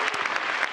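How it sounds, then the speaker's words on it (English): An audience at a design summit applauds a group leaving the stage, a brief, loud, dense burst of clapping. "Please, a big applause for all these beautiful people."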